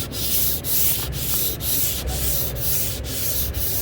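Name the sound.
block sanding the body of a 1978 Chevy Malibu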